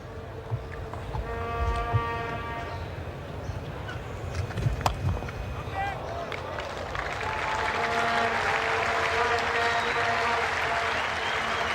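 A cricket crowd at Adelaide Oval during the 1991-92 Australia vs India Test applauds a boundary. Broad clapping and cheering swell about halfway through and hold steady, with a commentator's voice heard earlier.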